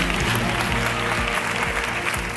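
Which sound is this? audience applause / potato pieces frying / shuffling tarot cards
audience applause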